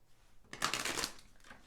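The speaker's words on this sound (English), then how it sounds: "I do feel a little bit of stuck energy with the cards kind of fighting to shuffle." Tarot cards are being shuffled, a faint quiet stretch followed by a short burst of papery riffling and flicking in the middle, close and soft, then fading out again.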